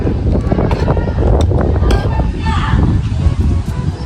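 Loud, blustery wind battering the microphone on a rooftop in a constant low roar, with voices and small clatters underneath.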